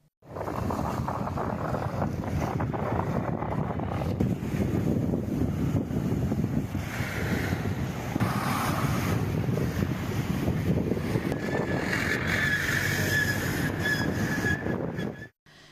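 Rough sea on the Cuddalore district coast, with waves rising to about six metres and strong wind, makes a steady, loud, broad roar of surf and gusting air that runs unbroken through the whole stretch.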